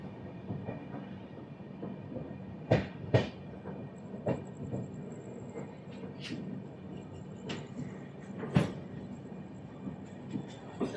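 Interior rumble of the Visakhapatnam–Howrah 12868 Superfast Express running on rails near Santragachi station, a steady low roar with a few sharp clanks and knocks from the wheels and carriage, no talk.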